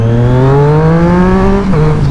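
A motorcycle fitted with a K&N air filter revs loudly and close by, its engine note rising smoothly in pitch before a quick drop and a steady hold.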